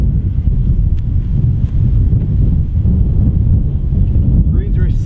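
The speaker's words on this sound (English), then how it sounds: "the wind today is really strong" Strong wind buffeting the microphone on a golf course, a loud continuous low roar and rumble with gusty surges throughout.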